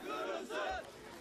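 A crowd of protesters shouting together outside the Swedish consulate in Ankara, a brief loud surge of massed voices with two overlapping swells of chanting.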